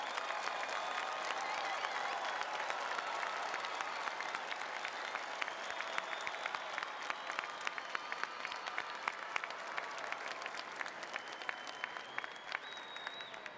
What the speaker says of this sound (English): let's give them a huge round of applause and thank them